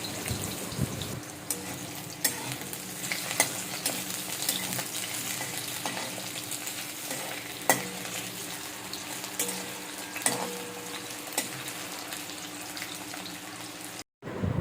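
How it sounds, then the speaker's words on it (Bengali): Long potato strips fry in mustard oil in a kadai wok with a steady, dense sizzle and occasional sharp stirring clicks, ending with a brief cutoff. "ওই লম্বা লম্বা করে কেটে রাখা আলুগুলোকে আমি ভেজে নেব"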